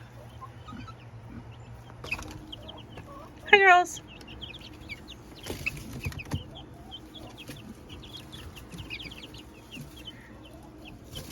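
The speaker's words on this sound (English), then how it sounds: "The other chickens are curious what's going on." Meat chickens cluck and murmur nearby in a chicken tractor, with one louder rising squawk; a person speaks briefly amid the steady farmyard chatter.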